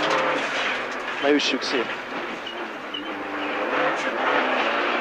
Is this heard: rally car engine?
yes